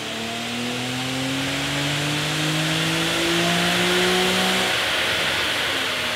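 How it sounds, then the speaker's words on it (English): An Infiniti G37 Sport Sedan fitted with a Stillen cat-back exhaust revs hard on a dyno, its engine note climbing steadily in a loud, continuous pull before cutting off near the end. "it is now time to find out how much power does the Stillen Cat Back exhaust make on the G37 Sport Sedan."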